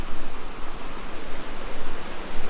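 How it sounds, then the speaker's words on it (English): A small waterfall at Akchour, Morocco, gives off a steady, even broadband rush of falling water that carries on without a break at moderate loudness, with no voices. "mini waterfall."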